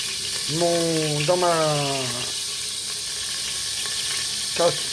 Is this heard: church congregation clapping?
no